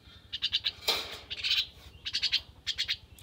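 A crested myna (jhuti shalik) chirps in quick bright bursts of repeated calls, several clusters close together over a low steady hum, with a brief flutter or rustle in between.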